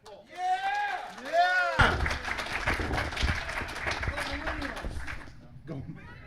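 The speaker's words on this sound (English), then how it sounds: "Give him a round of applause." Conference audience applauding a speaker at a security event, bursting in loudly after a voice and continuing as dense clapping and cheering, with speech heard before it.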